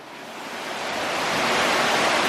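Heavy rain pours down in San Diego as a dense, broadband hiss that swells gradually louder and stays steady throughout, with no voices.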